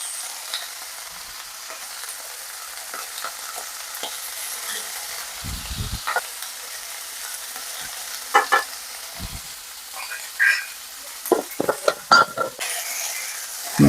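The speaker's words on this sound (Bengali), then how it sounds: "একসাথে ভেজে নেব। এর মধ্যে আর একটু হালকা নুন আর হলুদ দেবো।" Mixed vegetables frying in a pan with salt and turmeric, a steady soft sizzle running throughout with occasional louder stirring scrapes and clatters toward the end.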